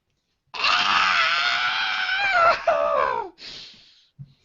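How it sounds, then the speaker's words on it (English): A loud, high, wavering cartoonish Yoshi screech holds for about three seconds, then breaks off into a shorter squeal and a small trailing blip, with no talking. "Yoshi Screech is coming."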